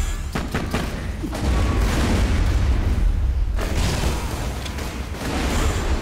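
Explosions go off in the video game Borderlands: The Pre-Sequel: loud, sustained booming blasts and bursts of gunfire fill the scene, swelling in the middle and easing near the end.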